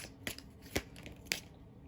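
Tarot cards are shuffled by hand in a quiet room, giving three soft, brief riffling flicks spaced apart, close and faint with no talking.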